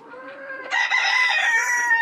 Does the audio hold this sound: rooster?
yes